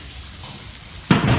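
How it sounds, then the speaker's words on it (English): Meat sizzling on a smoker grill, a steady soft frying crackle that flares into a louder, brighter burst near the end, with no talking over it. "Or are you distracted by the sizzle of smoke?"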